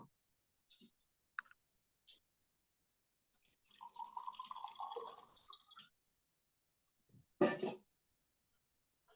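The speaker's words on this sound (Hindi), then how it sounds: "मैं थोड़ा पानी पी लेता हूँ" A few quiet sips and swallows of drinking water in an otherwise silent room, with faint clicks of a glass, a soft gulping passage in the middle and a louder swallow near the end.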